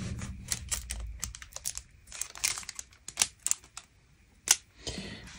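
Typing on the keyboard of an XMG Schenker Neo 17 gaming laptop, with quick, uneven bursts of close key clicks and a few sharper taps, heard alone with no talking.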